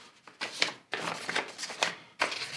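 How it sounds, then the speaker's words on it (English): Scissors cutting through material, several short crisp snipping and rustling bursts in an uneven rhythm, close and fairly loud, with no talk. "now I'm going to use the scissors"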